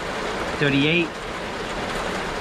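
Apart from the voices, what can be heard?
heavy rain pouring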